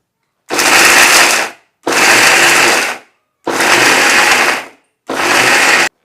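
A kitchen mixer grinds jaggery for sesame laddoos in four loud bursts of about a second each, separated by brief silences, close up, with no speech.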